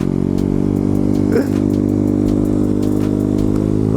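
A motorcycle engine revs hard and accelerates, a loud close droning roar with steady harmonic pitch and a brief gear-change dip partway through.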